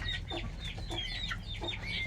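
Mother hens on a farm cluck close by in a quick run of short, repeated calls over a low steady background hum.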